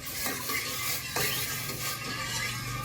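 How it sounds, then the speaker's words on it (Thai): Coconut milk simmering in a pot while being stirred, giving a soft steady bubbling hiss with a few light scrapes and clinks, close and moderate in level. "ครับแล้วก็ลงกะทิก่อนเลย เคี่ยวกะทิก่อน"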